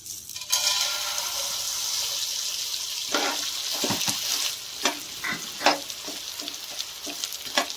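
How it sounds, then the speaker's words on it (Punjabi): Edible gum (gond) fries in ghee over low heat, a steady close sizzle running throughout, with short scraping and stirring strokes breaking through in the second half. "ਹੁਣ ਇਹਦੇ ਵਿੱਚ ਗੂੰਦ ਪਹਿਲਾਂ ਕਰ ਲੈਣੀ ਹੈ ਫਰਾਈ"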